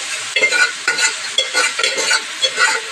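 Cooked beans and toor dal being stirred into fried onions in a hot pan for a beans palya in a village kitchen, a steady sizzle broken by repeated scraping strokes of a spoon, close and continuous with no voices.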